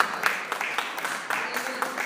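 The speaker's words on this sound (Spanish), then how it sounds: "Denle un aplauso al Señor" Congregation clapping during a church worship service, a soft, fairly distant patter of many hands with faint rhythmic accents across the short stretch.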